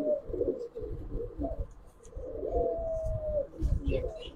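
Giribaz pigeons, including green-necked silver birds, coo close by in repeated low throaty bursts, with a few faint chirps and small movement sounds between them.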